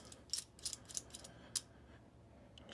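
A holographic sight's rail mount clamp being loosened: a few faint, close mechanical clicks and small creaks, spaced irregularly over a quiet background with no talking.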